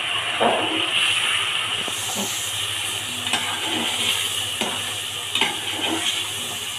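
Spiced, marinated meat for a traditional Bangladeshi rice biryani fries with a steady hiss and sizzle in a pan, broken by occasional soft scraping stirs, close and continuous.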